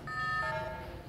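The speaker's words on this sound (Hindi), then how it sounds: "अलार्म बज चुका है" A prison alarm siren in a Roblox game sounds as steady, bright electronic tones that shift pitch partway through, fading slightly near the end, with no voice over it.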